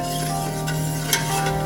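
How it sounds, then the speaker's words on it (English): Onions with salt gently sizzling in a pan on a stove over moderate heat, a steady soft crackle with a brief clink of a utensil stirring partway through, no talk. "And that gentle sizzling is what you hear."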